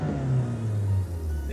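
A Hyundai car engine is held at high revs near 7,000 rpm, making a loud, steady, droning rumble that wavers a little in pitch and runs for the whole short stretch.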